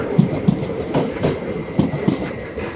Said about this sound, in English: And now there are trains there because I'm looking for some photographs of trains.